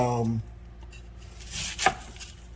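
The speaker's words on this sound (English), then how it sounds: "cut my onion up for my rice" A knife chops an onion for rice, with a few quick cuts in a kitchen, including one sharper stroke near the end, after a brief burst of voice at the start.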